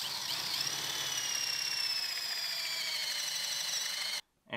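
A Forstner bit drills a hole in wood, a steady, loud high-pitched whine that holds for about four seconds before cutting off abruptly.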